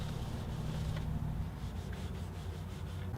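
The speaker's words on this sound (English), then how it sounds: "now I'm going to give it a coat of lemon oil to seal it up." Soft, quiet rubbing as lemon oil is worked by hand into an unlacquered walnut fretboard on a homemade cigar box guitar, a low steady swishing with faint strokes and no talk.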